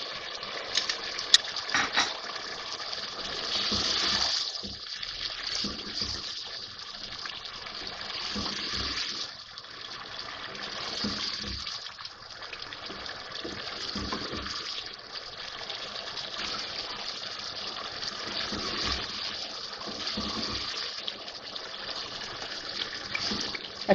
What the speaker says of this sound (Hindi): अब मैं इसमें पानी डाल रही हूँ गलाने के लिए